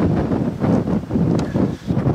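Wind blowing at a beach waterfront, buffeting the microphone in loud, rumbling gusts that surge and ease in a steady rhythm, with no other sounds standing out.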